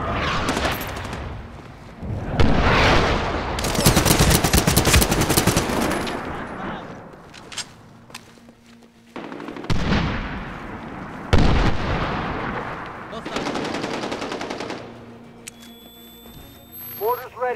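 Loud artillery impacts and sustained machine-gun and rifle fire in the Medal of Honor Warfighter video game, with dense bursts, booming blasts and radio chatter voices over the battle.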